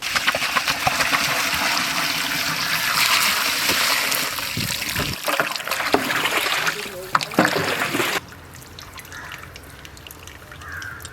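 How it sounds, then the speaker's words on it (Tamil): Water poured into a large pot for chicken biryani, a splashing, gushing stream for several seconds with a voice talking over it, then it stops abruptly and leaves a quieter room. "தேவையான அளவு தண்ணியை சேர்த்துக்கொள்வோம்."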